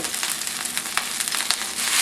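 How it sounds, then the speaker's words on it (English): Cooked rice dropped into a hot pan, a close, bright steady sizzle with small crackles and a few scrapes as it settles in the oil. "We're going to drop this rice in."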